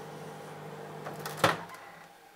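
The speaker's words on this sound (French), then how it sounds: "Alors il y a le bruit du micro-ondes en parallèle là" A running microwave oven gives a steady low electrical hum with a sharp clunk partway through, heard close and fairly quiet.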